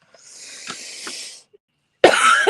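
A raspy, breathy cough stretches out for over a second, followed after a brief pause by a sharper, louder hacking cough up close.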